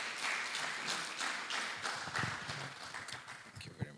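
Faint applause rises at a youth conference as a deputy director comes forward, made of scattered individual claps in an uneven patter that thins out toward the end, with a sharp clap at the close.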